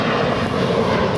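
A fixed-wing airliner rolls for takeoff on runway 25 right at Los Angeles LAX airport, giving a steady, loud, broadband engine roar that fills the whole moment with no talk.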